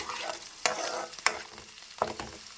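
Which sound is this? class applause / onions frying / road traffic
onions frying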